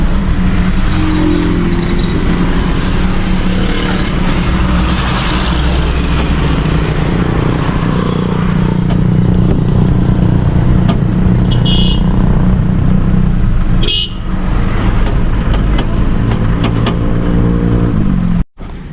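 A truck arrives and drives past, its engine a steady close rumble that swells and shifts as it moves, with a couple of brief horn-like toots and other traffic noise around it.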